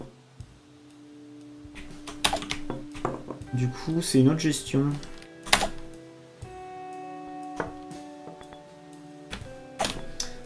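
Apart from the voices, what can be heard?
laptop keyboard keys pressed while playing a video game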